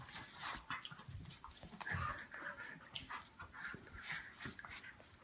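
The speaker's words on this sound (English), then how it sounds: "Hey dog, stop it, come on." A dog pants and whimpers nearby in a quiet indoor space where road bike handlebars are being wrapped, with rapid breathy huffs and soft whines, faint and without speech.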